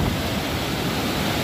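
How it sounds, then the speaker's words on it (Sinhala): Steady, dense roar of water at Pahanthudawa waterfall in Sri Lanka, a broadband rushing wash that stays loud and unbroken throughout with no voices. "ඇවිල්ලා ඉන්නේ පහන්තුඩාව දියල්ල ගාවට"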